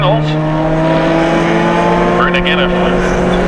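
A closed-wheel race car at Mission Raceway roars past on track, loud steady engine tones with a brief rising whine, under continuous commentary.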